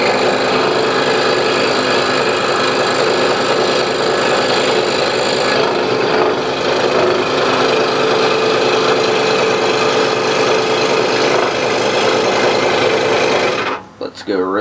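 A power tool cuts out the inside of a piece of half-inch hardwood maple, a loud continuous buzzing grind held steadily close up for well over ten seconds before cutting out briefly at the end.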